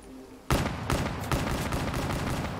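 Gunshots in Black Ops 3 Zombies cut in suddenly after a quiet start, a rapid run of loud, close shots with a few sharper peaks that carries on to the end.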